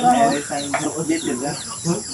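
Chickens cluck and murmur close by in a busy, overlapping chorus, with a person talking over them.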